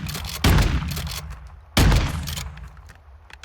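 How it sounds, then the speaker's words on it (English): Two loud shotgun blasts from Modern Warfare II, about a second and a half apart, each a sharp boom followed by a short rumbling tail, with quieter handling noises in between. "I'm not huge on the sound design for shotguns"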